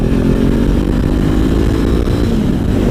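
A 2016 Honda CBR500R with an Akrapovic exhaust accelerating hard, its engine loud and close in a steady, dense roar that holds without a break.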